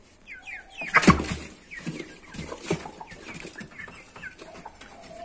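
Brahma chickens and a rooster cluck and chirp nearby in a cramped space, with a few louder squawks, a busy coop sound with no talking.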